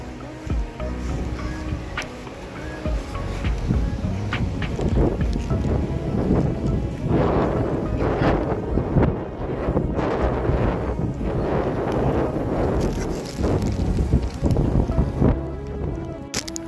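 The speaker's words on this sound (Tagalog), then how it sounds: "masama pong panahon at may bagyong darating" Stormy weather as a typhoon approaches: gusts of wind buffet the microphone and low thunder rumbles roll through in waves, loud and continuous, with no clear speech.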